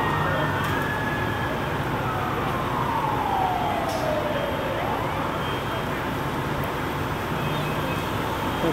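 A fire engine siren wails and sweeps downward over steady loud traffic and crowd noise at an apartment fire, with faint voices in the background.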